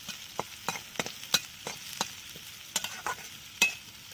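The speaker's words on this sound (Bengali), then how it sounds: "এটা হালকা করে ভেজে নিচ্ছি" Close, rhythmic spatula scrapes sound over a soft sizzle as chopped onions fry lightly in a wok with beans and carrots, about a dozen quick strokes in a few seconds.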